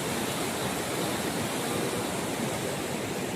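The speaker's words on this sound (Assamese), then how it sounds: "জাচুংগড়াত তলত নদীখন আছে ধুনীয়া টিয়াঙত গৈ আছে এখন নদীখন" The Siang river rushes below Jachung gorge in Arunachal Pradesh, a steady, distant wash of flowing water that stays even and unbroken throughout.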